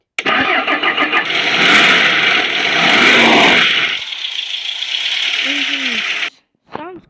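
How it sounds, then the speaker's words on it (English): A restored MB-124 engine running close by, a loud continuous mechanical drone with revving surges, then settling to a steadier idle before cutting off, followed by a short burst of sound. "Engine sounds great, by the way."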